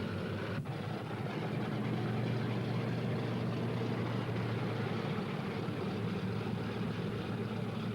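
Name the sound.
Lockheed P-38 Lightning engines running, taxiing for takeoff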